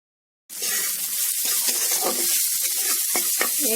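Papaya flowers (amita phool) fry over a low flame, giving a continuous close, loud sizzle with scattered crackles and pops that starts suddenly after a short silence and carries on unbroken.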